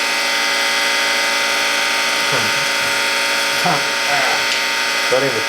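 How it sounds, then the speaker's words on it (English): A surface grinder's spindle runs steadily while warming up with coolant flowing, a loud, continuous mechanical whir with ratcheting gear-like texture throughout, while someone talks briefly over it. "I'm letting the spindle get warmed up, and I'm letting the coolant get consistent"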